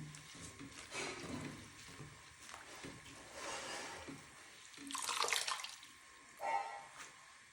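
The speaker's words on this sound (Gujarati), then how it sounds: "હવે જો આપણે મેથીને એકદમ સારી રીતે ધોઈ લીધી છે અને એમાંથી પાણીમાંથી આપણે બહાર કાઢી લેશું અને એક થાળીમાં મૂકી દઈશું" Washed fenugreek leaves lifted out of a bowl of water, soft splashing and dripping in faint irregular bursts.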